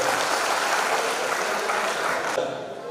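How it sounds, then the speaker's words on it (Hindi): An audience at a radio listeners' convention in Buldhana breaks into dense, sustained applause. The sound is loud and continuous, with no voices, and it thins slightly near the end. "इस जिंदा लोगों के लिए फिर से एक बार तालियां हो आपके"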